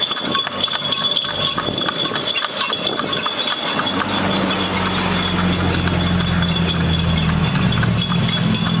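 A training horse pulling a weight through a village at a slow pace, hooves clip-clopping in a steady rhythm close by against constant road and engine noise, with a low drone building in the second half.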